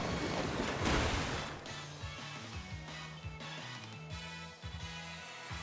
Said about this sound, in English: Blastoise retaliates with Muddy Water.